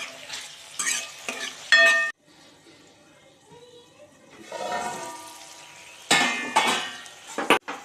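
Ginger pieces and garlic cloves hit hot oil in a pan for a shev bhaji masala, giving loud sizzling bursts at the start and again near the end, separated by a quieter stretch of low frying.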